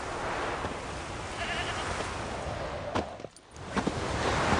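A sheep in The Witcher 3 bleats a few times, its wavering calls rising over a steady, noisy outdoor ambience with wind or surf-like wash.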